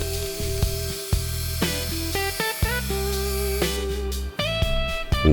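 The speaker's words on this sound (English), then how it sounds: "Now I'm just drilling the mounting holes." A power drill whirs in repeated bursts, its motor pitch rising and dropping as it drills and countersinks holes in scrap wood, close and loud without speech.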